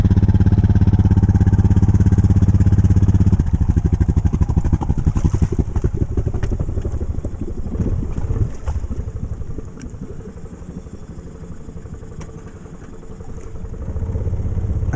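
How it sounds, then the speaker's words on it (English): A Jeep Rubicon engine idles while submerged in a steep pond, fitted with a snorkel: a steady low rumbling drone with rapid clattering pulses, muffled and continuous, loud and close throughout with no voices. "Idling underwater quite well."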